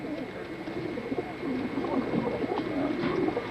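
Kit pigeons coo in low, soft, repeated murmurs against a continuous faint background hum, the calls overlapping and rising slightly in density toward the end, with no one speaking.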